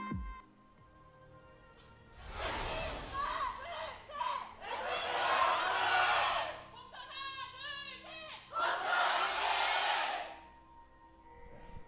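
An esports arena crowd at an LCK Summer Promotion 2018 match between MVP and Kongdoo Monster roars in three loud, broad swells of cheering and shouting, with quieter murmuring between them.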